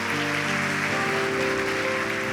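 Church congregation applauding the name of Jesus during an evening service, a steady dense wash of clapping over sustained organ or keyboard chords that continue throughout.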